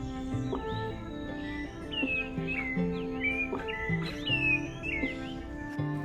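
Tropical birds chirp and whistle repeatedly in Panama City, bright rising calls scattered over a steady background hum, with no voices.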